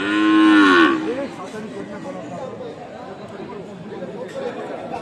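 A cow or bull bellows loudly once at a crowded Bangladeshi cattle market selling small to medium bulls, then the market's steady hubbub of voices and chatter carries on.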